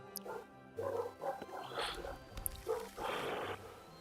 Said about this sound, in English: There goes my dogs. Y'all hear them?